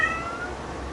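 A house cat lets out a single short meow at close range, over a quiet indoor background.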